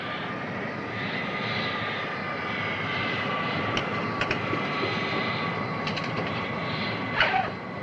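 Airplane engine during takeoff, a steady loud droning roar with a sustained whine, continuous and unbroken, with faint metallic clicks near the end; no talking.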